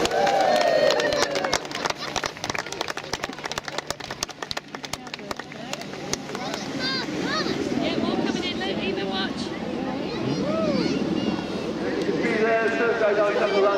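A crowd on the beach at a seaside air show claps for a parachute display team, a burst of scattered, fairly close clapping that fades into murmuring voices and general outdoor crowd noise.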